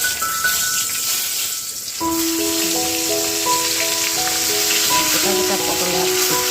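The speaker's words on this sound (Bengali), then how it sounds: "এখন পটল ভাজবো।" Pointed gourd frying in hot oil in a pan, a loud continuous sizzle and crackle throughout, with a steady tonal hum underneath.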